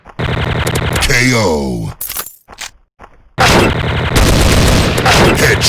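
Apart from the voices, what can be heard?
TMP submachine gun fire in video game Special Ops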